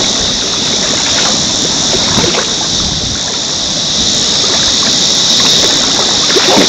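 Legs wading through knee-deep creek water at Station Creek in Yuraygir National Park, a loud, continuous close splashing and rushing wash, with no voices.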